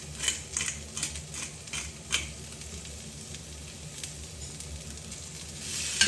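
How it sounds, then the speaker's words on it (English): Lentil and egg mixture with peppers sizzles steadily in a small frying pan, a constant close crackle with a few brighter pops and light scrapes near the start, and no talking. "cook away in my little pan there for a second"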